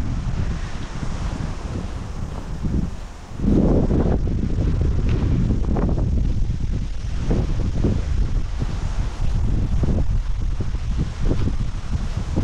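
Wind blows strongly outdoors in New Zealand, a loud, gusty rumble buffeting the microphone, dipping briefly and then surging back to a steady roar.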